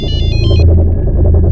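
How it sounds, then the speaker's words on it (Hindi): A phone ringtone chirps in quick repeated pulses for about half a second, then fades under a low engine-like rumble. "अरे तो मेरे मोबाइल से फोन आ रहा है।"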